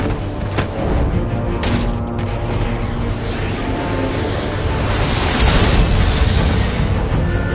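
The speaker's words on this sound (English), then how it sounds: "Use Riddler's trap to protect Iman and myself from the explosion." Explosion in Batman: The Enemy Within, a game scene: a heavy, sustained roar with broadband rumble and crackle filling the whole stretch, swelling again near the end, with no talk over it.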